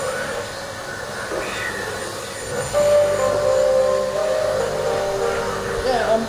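A Henry vacuum cleaner runs with a steady broadband drone that swells louder partway through, carrying a faint tonal whine on top, with no talk over it.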